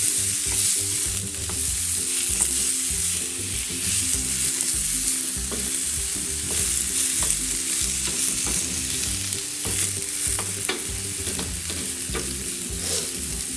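Peppers and potatoes sizzle and fry in a pan for a dry pepper potato masala curry, with a constant crackling hiss and repeated scraping stirs of a utensil against the pan, close and steady.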